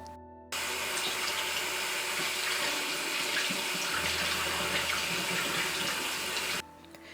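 Potatoes being washed under running tap water in a kitchen sink, a steady continuous splashing flow that starts abruptly and stops near the end, close and fairly loud with no talking.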